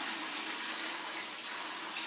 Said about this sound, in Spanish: El primer reactor, y voy a llenarlo completamente